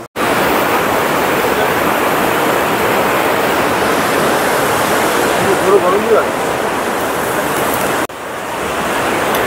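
River water rushing past at Manikaran, a loud, steady broadband roar that fills the whole stretch with no letup, dipping only briefly near the end.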